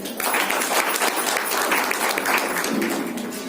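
A meeting audience applauding, sustained dense clapping from many hands filling the room, loud and steady throughout.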